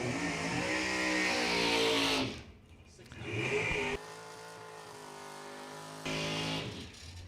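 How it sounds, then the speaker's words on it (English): Drag race launch at a bracket event in Monroe Township, New Jersey, with a 1999 Chevy S10 pickup and a primer 1968 Camaro; loud engine roar and revving that cuts off abruptly, then quieter rumbling, with an announcer talking over it. "Peter Lano, right lane, Monroe Township, New Jersey, the 99 S10 pickup truck"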